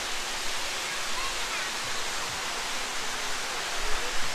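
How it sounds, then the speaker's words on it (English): Water spraying steadily from snake-head fountain heads at a resort pool slide area in Myrtle Beach, a continuous even hiss of falling water with no talk over it. "Got a head over there and head over here spinning out water."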